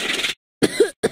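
A Fisher-Price kindergarten learning toy plays a recorded cough: two or three short, loud, close bursts separated by brief silences, preceded by a longer breathy rasp.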